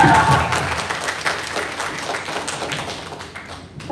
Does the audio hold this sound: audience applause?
yes